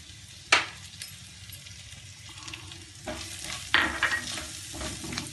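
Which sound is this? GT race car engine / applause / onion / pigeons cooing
onion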